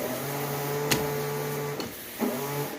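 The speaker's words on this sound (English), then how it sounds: "Yeah, sprayer works, but the hose is broke." The windshield washer sprayer pump on an S10 Blazer whines in short electric bursts, a steady hum that cuts off and restarts with small clicks, heard close and alone.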